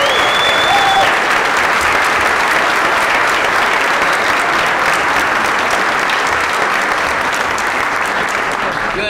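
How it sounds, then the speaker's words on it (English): Sustained applause from a large audience at a Dominion Club political event, dense and loud throughout, steady clapping with a brief whistle near the start. "I want one more round of applause for my wife, Laura."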